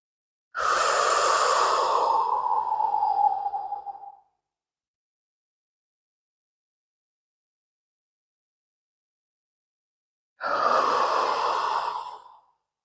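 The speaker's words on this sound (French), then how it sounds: "Et puis on va revenir à soi avec des respirations." Two slow, deep breaths in a guided relaxation exercise, each a long airy exhale lasting a few seconds, separated by about six seconds of silence; close and clear, no talking.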